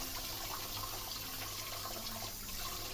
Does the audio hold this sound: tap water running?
yes